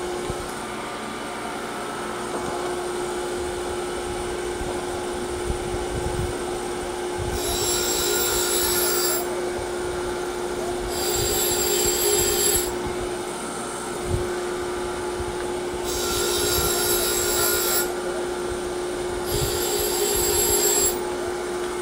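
Tormach surface grinder wheel being dressed, a steady whining drone with a constant pitch, broken by several bursts of harsher, hissing grinding as the dresser passes across the wheel, fairly close and with no talk.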